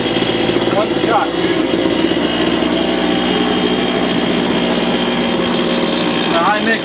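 Small engine of a backpack gold mining machine running at a steady, loud, buzzing drone throughout, with faint tonal squeaks near the start and end and some voices underneath.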